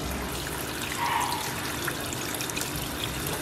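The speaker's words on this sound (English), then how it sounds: "we made this water feature here" A homemade balcony water feature built from plywood and a thick liner trickles steadily, a soft continuous splashing flow close by with no voices.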